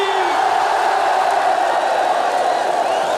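A large crowd at a 1979 live concert roars and cheers in a steady, loud, continuous wash of noise with no pauses.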